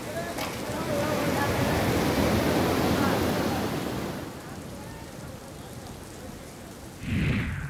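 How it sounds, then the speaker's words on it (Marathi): Heavy rain driven by strong winds in Nashik district, a dense roaring hiss that stays loud for about four seconds, then eases to a softer steady wash with a brief swell near the end. "नाशिक जिल्ह्यात वादळी वाऱ्यासह पाऊस बरसलाय."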